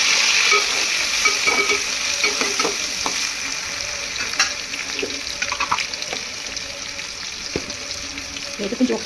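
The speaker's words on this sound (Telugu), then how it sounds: "కొంచెం ఆయిల్ ఏడెక్కినాక ఉల్లిపాయలు పచ్చడి వేసాను" Chopped onions hit hot oil in a pan and sizzle steadily, with a close crackling hiss and occasional clinks of a stirring spoon, no talking over it.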